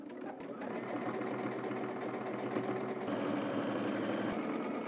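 A sewing machine runs steadily while stitching a 3/8 inch fly seam, giving a fast close mechanical chatter that carries on without a break for several seconds.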